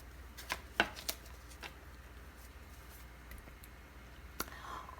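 Playing cards shuffled and cut for a reading, heard as a few quiet snapping riffles and taps early on, then soft faint handling against a low steady hum, with no talking.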